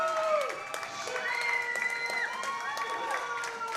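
A pro wrestling crowd greets a wrestler's arrival at a club event, with a sustained roar of cheers, whoops and clapping. A commentator's voice rises and falls over the noise throughout.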